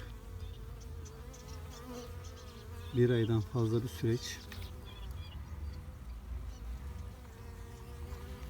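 Bees hum steadily around a queen-rearing hive, a close and continuous drone, while someone speaks Turkish over it.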